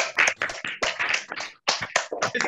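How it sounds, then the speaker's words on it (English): Participants on a Zoom call unmute to clap together, producing a burst of scattered, uneven handclaps and taps of varying loudness, with a brief gap partway through. "All of you can unmute for 1 second and make a clap."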